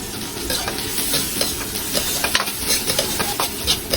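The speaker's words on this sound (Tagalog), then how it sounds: "dito natin ikikisa ang ating uh, sibuyas. Syempre yung bawang." Onion and garlic sauté in annatto oil in a pan, a loud, dense, continuous sizzle and crackle with scraping stir strokes, close and with no talking.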